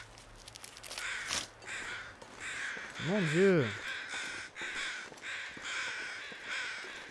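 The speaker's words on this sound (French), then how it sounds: "Oh, les corbeaux, vous voulez pas un peu la fermer deux secondes?" Crows caw repeatedly in the survival video game The Long Dark, with harsh calls recurring steadily through the scene while a man briefly exclaims in French.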